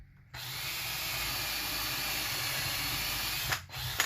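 An electric drill bores out rivets on a chainsaw carburetor metering diaphragm, whirring steadily and close for several seconds before a brief dip and restart near the end, with no talking.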